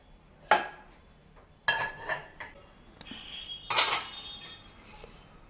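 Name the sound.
pots and dishes clattering as mom cooks in a school play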